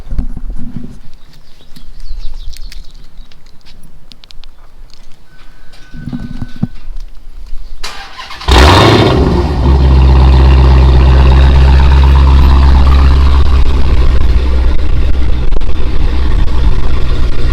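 A 2015 Dodge Challenger Hellcat starts with a sudden loud roar after quiet outdoor background, then settles into a deep, steady, rumbling idle close by.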